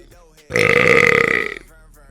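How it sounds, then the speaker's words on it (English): A loud, close burp lasting about a second, rising abruptly out of near quiet and fading at the end, with faint voice murmurs around it. "I am editing out a burp"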